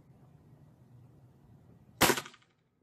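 A single sharp crack from a tuned SMK CP1 .22 calibre air pistol with a short barrel cuts through a quiet room, then decays fast into silence.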